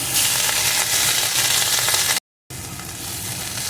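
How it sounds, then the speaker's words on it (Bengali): Neem leaves dry-fry in an oil-free wok, giving a loud continuous sizzle and crackle. The sound cuts out for a brief moment partway through, then resumes. "নিম পাতাটা এই শুকনো কড়ায় একটু এইভাবে ভেজে নেব"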